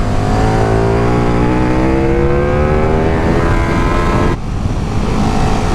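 A KTM 1390 Super Duke R, a naturally aspirated motorcycle, revs hard with a rising engine note that climbs through the gears, loud and close, with a brief dip near the end before the roar continues.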